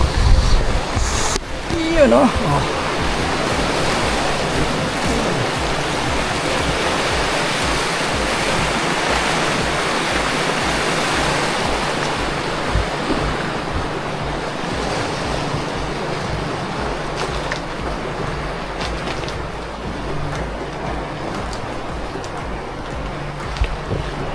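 Ocean surf rolls continuously onto the shore near a path leading to the sea, a steady loud wash with gusts of wind noise on the microphone, while a person speaks briefly at the start.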